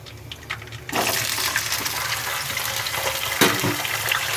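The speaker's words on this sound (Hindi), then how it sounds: "आप इस तरह से फ्राई करेंगे इसे, आलू को ऑयल में।" Potatoes are dropped into hot oil and fry with a sudden loud burst of hissing and crackling sizzle that holds steady with a few sharper pops.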